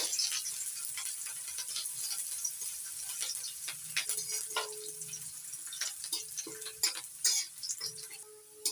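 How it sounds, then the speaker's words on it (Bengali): Chopped onion fries in a pan with cumin seeds and chopped ginger, a soft, steady sizzle broken by the scrape and clink of stirring, fairly faint with no talk. "পেঁয়াজ কুচি পেঁয়াজ একটু ভেজে নেব"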